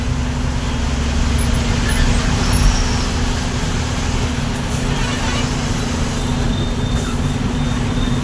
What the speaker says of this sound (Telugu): ట్రాఫిక్ ఎట్లా ఉందో